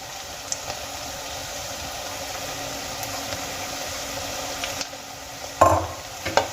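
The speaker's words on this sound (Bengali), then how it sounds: "এবার পেঁয়াজ আর এই আদা আমি আরও কিছুক্ষণ ভেজে নেব" Grated ginger and onion fry in a pan for a fish curry with green tomatoes, giving a steady close sizzle throughout with a few sharper scrapes of stirring near the end.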